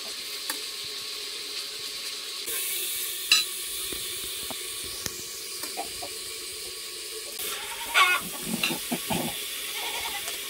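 Spices tempering and onion frying in a pan at an outdoor tribal cooking setting, a steady broad sizzle with occasional stirring clinks and scrapes; goat bleats and other animal noises sound faintly in the background.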